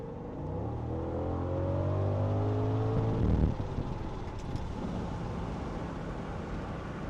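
A 2007 Audi S6 with its V10 engine accelerating hard, heard from inside with the rear windows open: a loud rising engine drone climbs through the gears, then settles into steady road and wind rush.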